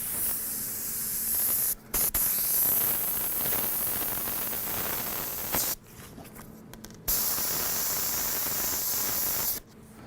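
An airbrush sprays paint onto a stencil for a realistic fire design. It gives a close, soft hiss in long bursts, broken by a few short pauses, with no talking.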